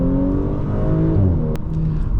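A 2020 Audi S4 Prestige with a 3.0-liter turbo engine accelerating up close, its rising harmonic engine note climbing steadily, with a short sharp click partway through and no talk.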